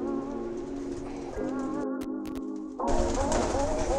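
Pigeons coo in a loft, low throaty coos layered under steady background noise, with a brief drop and then a louder rustling burst near the end.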